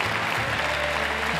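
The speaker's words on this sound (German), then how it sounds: "der Applaus von uns allen." Audience applauding at the 2013 World Latin dance championship final, a loud, dense wash of clapping from a large crowd in a hall, continuous and without talk.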